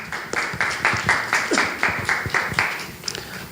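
Audience applause at a family ministry strategy conference, broken into about eight distinct loud bursts of clapping with short gaps between them, heard up close.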